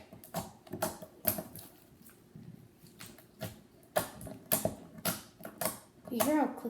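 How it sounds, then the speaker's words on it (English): Slime stirred in a bowl makes a continuous run of wet, sticky clicks and pops, rising and falling in bursts at close range, with a voice speaking now and then over the mixing. "You hear how clicky that is?"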